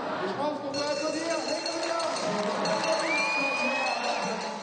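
Audience cheering and applauding at the close of a timed round in a hairdressing competition final, a steady crowd roar with whoops and shouts filling the space, a voice briefly rising above it.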